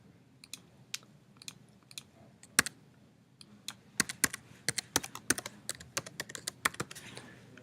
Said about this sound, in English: And hopefully I typed everything right.